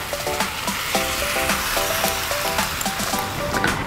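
Sauce poured into a hot pan of Korean-style beef stir-fry with carrot strips and kimchi, giving a steady, close sizzle and bubbling along with light clinks of stirring.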